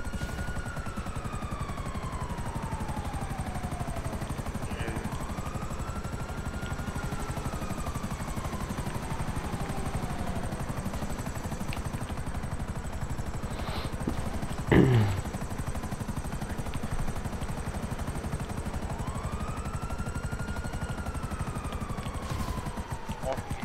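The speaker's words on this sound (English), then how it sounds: "Oh, helicopter's breaking down." A helicopter in the GTA V Online video game thrums steadily as its rotor fails, a constant whirring drone with passing sirens and a sudden sharp bang midway, while players talk over it.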